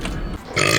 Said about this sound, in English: Burps.